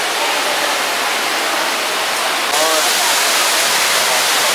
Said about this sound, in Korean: 떨어지는 폭포.